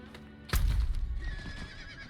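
A horse whinnies loudly and close in the video game Diablo IV, a sharp neigh that trails off into a rumbling snort, with a faint background tone underneath.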